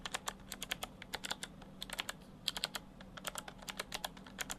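Fast typing on a GAMDIAS Hermes M3 RGB mechanical keyboard produces a quick, irregular stream of crisp clicky keystrokes, close and fairly quiet, with no voices.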